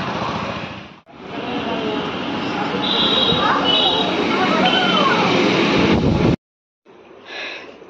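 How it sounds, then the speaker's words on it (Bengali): A metro train in Kolkata rumbles past loudly and steadily for about six seconds with high squealing tones, then cuts off abruptly; voices chatter underneath. "ও মেট্রো। প্রত্যেক দিনই পাই না।"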